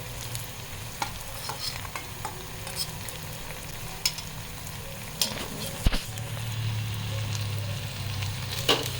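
Onion, green chili and garlic fry in a pan with a steady, dense sizzle, broken by occasional scrapes and clinks of stirring, close and continuous with no talk.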